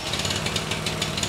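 A gardening-type generator engine fires up on its push-button starter and runs steadily, a close, loud buzzing mechanical drone with no pause for the whole moment.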